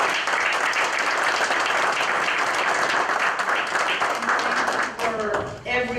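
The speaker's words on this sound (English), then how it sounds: "please, a big round of applause." Audience applause fills a library event in El Cenizo, a dense, steady crackle of many hands clapping for several seconds before it thins out and a voice starts speaking at the end.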